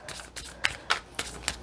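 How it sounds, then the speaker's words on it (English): An oracle card deck being shuffled by hand close up, a quick series of crisp riffling snaps and soft card slides repeating in an uneven rhythm. "So I'm shuffling the first oracle deck right now"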